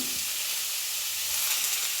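Steady, close sizzling of food frying in hot oil, a continuous bright hiss with no voices.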